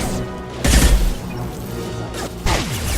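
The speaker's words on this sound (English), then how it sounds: "Oh, the explosion." An explosion goes off in the video game Mass Effect 2, a sharp crashing burst followed by a second impact with whooshing debris, loud and close, and no talking.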